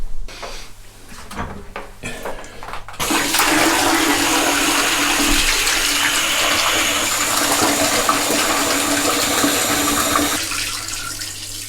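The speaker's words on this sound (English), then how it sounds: "Just going to rinse it through with some fresh clean water now." Fresh clean water rinses through a Thetford cassette toilet. A few light knocks come first, then a loud, steady rushing and sloshing of water lasts several seconds before easing off.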